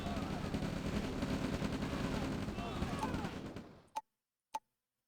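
Units being gunned down in the video game Red Alert: sustained loud crackling gunfire and battle noise that fades out, followed by two sharp isolated pops in the silence.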